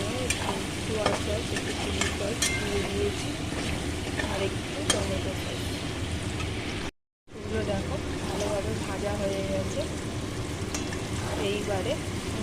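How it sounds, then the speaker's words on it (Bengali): Spiced chicken frying in a wok, a steady close sizzle with scraping and stirring clatter throughout, briefly cut to silence midway, then resuming just as loud. "ভালো করে মাংসটাকে একটু কষিয়ে নেবো, ভাজা ভাজা করে নেবো"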